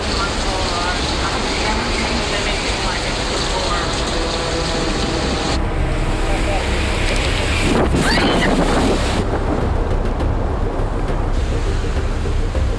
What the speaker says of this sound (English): we are hearing the building shaking. And that's from these wind speeds reaching up over 60 miles per hour here.